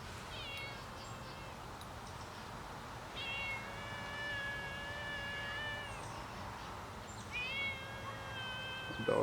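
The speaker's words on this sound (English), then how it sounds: "Oh, there's a little cat coming up." A small cat meows outdoors, giving three drawn-out, high calls spaced a few seconds apart over steady background noise with a faint insect-like hum.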